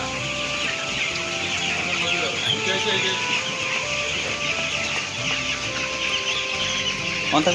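Chickens clucking on a poultry farm, a busy chorus of overlapping clucks and calls continuing throughout, with people talking over it.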